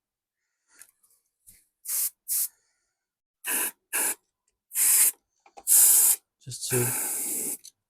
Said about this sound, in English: So I'm going to spray some contact cleaner.